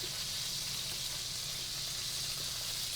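Vodka sauce cooking in a pan, a soft, even sizzle and simmer heard close and steady with no talking.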